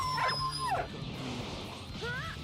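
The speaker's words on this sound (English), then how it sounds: "Who just threw a dog at me?" A dog yelps and whimpers after being thrown during play in a modded Dragon Ball Sparking Zero fighting game, giving several short, rising cries over steady game noise.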